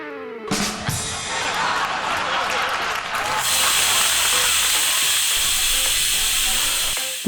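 A loud, continuous hiss of escaping steam fills the whole stretch, growing brighter and more piercing partway through, like a pressure cooker whistle blowing.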